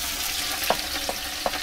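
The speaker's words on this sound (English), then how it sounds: "It needs to just sizzle softly." A potjie pot of oxtail stew sizzles softly over a wood fire, a steady low frying hiss with a few faint crackles and pops spaced through it.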